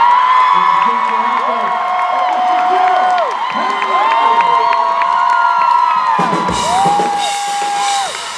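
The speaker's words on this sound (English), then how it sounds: "I want to hear a round of applause for the 2 gentlemen in front of this guy" A large fan convention crowd at a Supernatural panel cheers, whoops and applauds loudly, a dense continuous roar with high shouts and screams rising and falling throughout.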